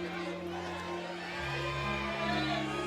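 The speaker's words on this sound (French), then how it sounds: "La foule qui crie son nom." A red-carpet crowd at the Cannes film festival shouts Gary Oldman's name, a continuous wash of distant cheering and calling voices with a low rumble beneath.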